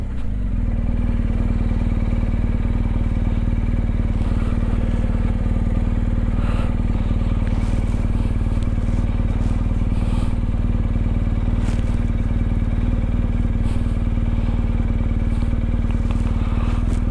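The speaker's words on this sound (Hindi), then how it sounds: "अब यहाँ से हम बाइक को घुमा लेते हैं।" A motorcycle engine runs in a snowy area of Bursa, Turkey, as the rider turns the bike around, a loud, close, unbroken drone that holds steady throughout.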